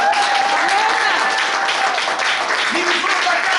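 Steady applause from a church congregation acclaiming the Lord at a Gabonese pastor's sermon, a dense continuous wash of clapping with crowd noise, loud and sustained throughout.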